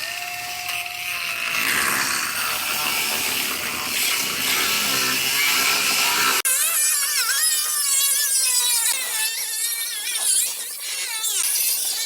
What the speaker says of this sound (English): I'm going to make my final cuts through both layers of the existing panel and the new panel